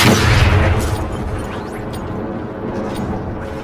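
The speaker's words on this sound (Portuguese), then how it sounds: "Mandando granada de luz." A flashbang grenade goes off in the video game Call of Duty Warzone with a sharp, loud bang up front, followed by a ringing, noisy decay that lingers for a few seconds.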